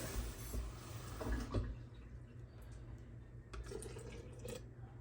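Lukewarm water poured from a measuring cup into half a cup of flour in a sourdough starter container, a faint, soft trickling and splashing that lasts a few seconds at close range.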